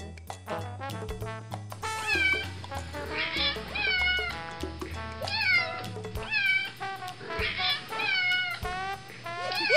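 Several cats meow and yowl in quick overlapping calls, rising and falling in pitch, close and fairly loud, with a low hum underneath.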